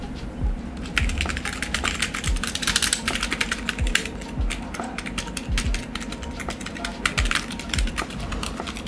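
Rapid clacky keystrokes from an AULA F75 mechanical keyboard, close and continuous, with steady uneven typing rhythm and no talking.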